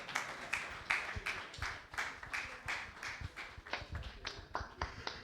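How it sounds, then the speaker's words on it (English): A modest audience claps after an academic talk on malaria transmission modelling, the claps uneven and individually distinct, sounding fairly close but quiet. "Please a round of applause for him."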